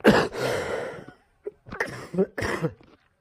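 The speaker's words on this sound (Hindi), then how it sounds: "सॉरी, खांसी" A long, raspy cough opens, then after a brief pause a string of shorter throaty coughs follows, close and fairly loud.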